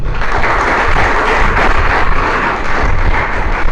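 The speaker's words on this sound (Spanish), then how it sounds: "Dale un aplauso" A church congregation bursts into loud, sustained applause, a thick roar of clapping hands that stays at full strength throughout, with no clear speech over it.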